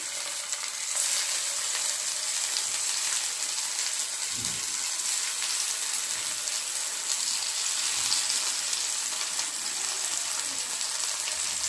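Tomato slices frying in a pan for a masala omelette, giving a steady, close sizzle that runs without a break, with a brief low clunk partway through and no talking.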